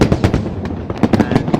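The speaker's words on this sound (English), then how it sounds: "It's been 4 years since we've had a firework display." Chinese New Year fireworks burst over Victoria Harbour in Hong Kong, a loud rapid crackle of many overlapping bangs and pops in quick succession.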